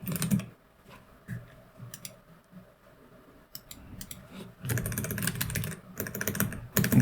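Computer keyboard typing in bursts, with clusters of quick clicks separated by pauses, near and moderately loud, with no speech.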